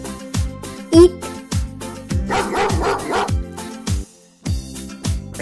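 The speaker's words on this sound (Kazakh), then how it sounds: "Ит, оның төлі күшік." A dog in a children's cartoon about farm animals and their young barks in short, repeated yelps over a steady, bouncy music beat, with a brief pause before the beat resumes.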